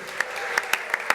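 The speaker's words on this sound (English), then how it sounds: "Give yourself a round of applause." Audience at a home design awards event in Des Moines applauds, a brief moderate burst of many hands clapping with a few sharper individual claps standing out.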